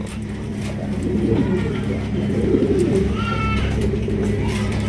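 Pigeons coo in low, rolling bursts close by, several calls overlapping over a steady background hum, with a faint higher chirp near the end.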